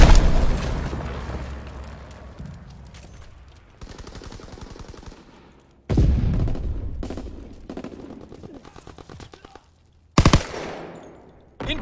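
Gunfire and mortar explosions in Call of Duty WW2: loud rapid machine-gun bursts and several heavy booming blasts, arriving in separate close-range bursts with brief quieter gaps between them.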